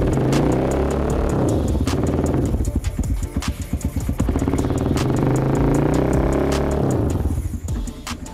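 Custom classic motorcycle exhaust, close and loud, revving in repeated throttle blips with rapid popping pulses that rise and fall over several seconds.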